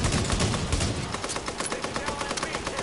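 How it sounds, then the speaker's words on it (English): Rapid gunfire in The Division, a dense stream of automatic shots with heavier bursts early on, set against continuous battle noise and ongoing voice chat. "Yeah, they're shooting at me, so you can shoot at me."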